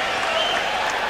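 A boxing arena crowd at the Roberto Duran versus Roni Martinez fight roars and applauds during the pre-fight stare down, a dense, loud, continuous wash of cheering and clapping.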